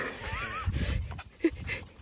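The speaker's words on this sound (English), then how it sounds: "So this is little Mr. Henry here. Playing with his daddy." Miniature schnauzer puppies romp with their adult father dog, giving short playful whines, yips and panting with a loud thump near the middle, close by and fairly lively.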